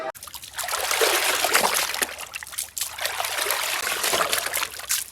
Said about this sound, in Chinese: 这个羊肠人家已经洗过了，咱们就简单洗一下就可以了